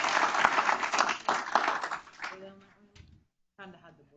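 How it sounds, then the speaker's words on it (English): An audience at a school board meeting gives a round of applause for AP Scholars with Honor, dense clapping that tapers off into talk after about two seconds. "Let's give our AP Scholars with Honor another round of applause"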